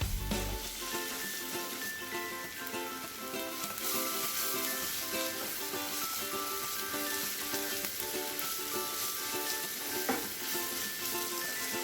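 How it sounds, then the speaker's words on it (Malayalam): Spice masala with coriander powder and garam masala sizzles steadily while being sautéed in a pan, a close continuous hissing crackle with occasional scraping stirs and no voices. "ഇനി ഇത് പൊടിയുടെ പച്ചമണമെല്ലാം മാറുന്നത് വരെ നല്ലതുപോലെ വഴറ്റണം"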